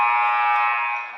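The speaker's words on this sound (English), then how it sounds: "Buzzer has rung." A basketball gym buzzer ends halftime at a South Boys vs. Ewing game, one loud sustained electronic tone lasting just over a second before it tapers off.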